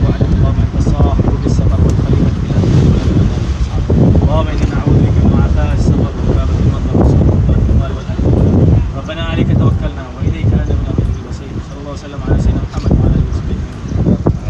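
Small boat ride out to Pulau Bait in Semporna, with heavy wind buffeting the microphone and the engine and water rushing continuously for the whole stretch, loud and close.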